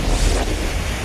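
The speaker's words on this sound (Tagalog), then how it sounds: "Ganyan kalakas na hangin at buhos ng ulan ang gumising sa mga residente ng Verac, Catanduanes kanina umaga." Strong super typhoon wind with heavy rain in Virac, Catanduanes: a dense, roaring rush with heavy low buffeting against the microphone, loud and unbroken through one brief second, with no voices.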